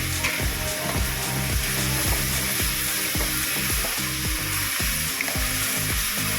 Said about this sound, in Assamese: এতিয়া আমি তাতে কেচাপ আৰু ভিনেগাৰ মিশ্ৰণটো তাতে দি এইখিনি আৰু কিছুমান ভাজি ল'ম।